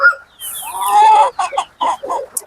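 Hens and chicks gather close to be fed pumpkin, giving loud, near clucks and drawn-out squawking calls, followed by a quick series of short, choppy clucks.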